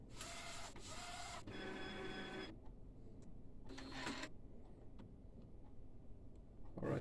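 An Epson L1800 DTF printer under repair testing runs in bursts of whirring, buzzing print-head and feed motor movement, close by, separated by quieter pauses with faint clicks; no talk is heard.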